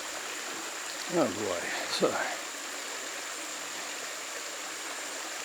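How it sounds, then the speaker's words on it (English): Shallow creek water runs steadily over rocks on a wildlife-area hike, a soft continuous wash heard throughout, with someone briefly speaking over it near the start. "I think you can probably hear the water running here."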